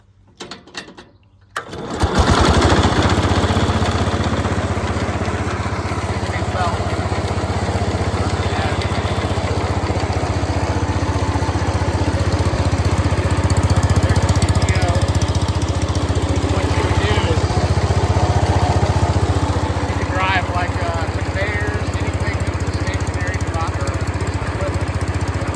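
A 1966 John Deere 110 round-fender garden tractor with a 540 PTO catches after a brief start and settles into a steady, loud, close engine drone that runs evenly to the end.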